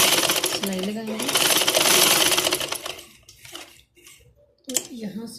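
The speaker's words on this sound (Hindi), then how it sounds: "सिलाई के ऊपर ही हम इसकी सिलाई लगा देंगे।" A sewing machine stitches gum lace onto the neckline, hem and side slit of a garment, running as a loud, continuous whirr for about three seconds before quieter handling noises, with someone speaking over parts of it.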